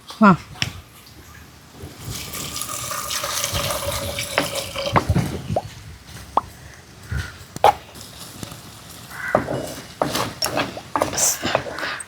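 Water splashes and pours near a sink as a pumpkin is washed, amid clattering and handling sounds, with a person talking intermittently.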